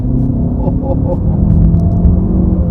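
Omoda C5 SUV with a 1.5-litre turbo engine pulling hard under throttle, a steady low rumble and engine drone filling the cabin, with a voice talking faintly over it.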